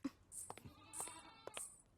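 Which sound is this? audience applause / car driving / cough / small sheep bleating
small sheep bleating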